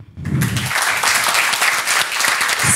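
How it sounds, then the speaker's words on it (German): A crowd claps steadily after a student hackathon team finishes its presentation, dense applause sustained throughout with a brief lull at the start and low murmuring underneath. "ihr kriegt erstmal euren Applaus zu Ende"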